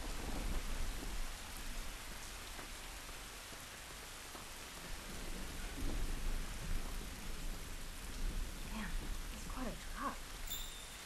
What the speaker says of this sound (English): Man, hearing this rain,